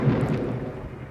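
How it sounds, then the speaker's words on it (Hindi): A brief, loud crack and rumble of thunder rolls out just before rain begins, a low, heavy burst that fades over about a second. "तभी जोर से बादल गरजने लगते हैं"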